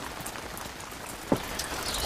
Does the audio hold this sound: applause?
no